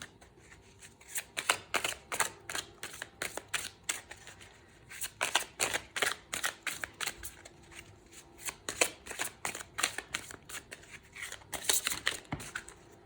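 A deck of tarot cards is shuffled again and again, close up. It makes bursts of rapid crisp riffling and slapping with short pauses between passes, and no voice is heard.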